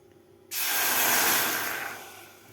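A sudden loud hiss as half a glass of water hits a hot pan for Maggi noodles, bursting in sharply then slowly fading into a softer steamy sizzle.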